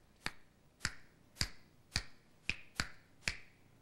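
Seven sharp, loud finger snaps come in a steady rhythm about half a second apart during a finger-snapping loudness contest. Each crack is close and crisp, with nothing else heard between them.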